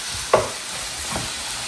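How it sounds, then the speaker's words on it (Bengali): Mushrooms, potatoes and onions fry in a pan with a steady soft sizzle, broken by a single clank of stirring near the start and a fainter scrape later. "আলু পেঁয়াজ ভাজা।"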